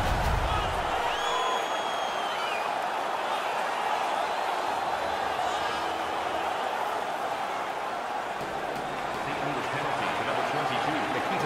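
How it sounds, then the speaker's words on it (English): A hockey arena crowd roars with steady excitement for Winnipeg against the St. Louis Blues after their player wins a fight, a continuous wash of cheering with a commentator talking over it. "Their man's won the fight. The crowd is ecstatic."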